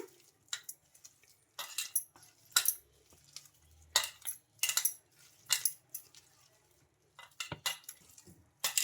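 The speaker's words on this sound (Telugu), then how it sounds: "ఇవన్నీ మసాలాలన్నీ బాగా కలిపేసుకోవాలి ఈ ఆలు పేస్ట్లో బాగా కలిసిపోయేటట్టు బాగా కలిపేసుకుందాం ఇలా" Metal spoon working spice masala into a mashed potato paste for aloo bhujia, giving soft scraping and clinking strokes in irregular bursts with short pauses, close up and alone.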